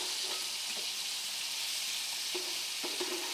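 Sardines frying in a pan beside a cooking dosa give a steady, close hiss of sizzling oil, broken by a few light clicks and scrapes as the fish are turned.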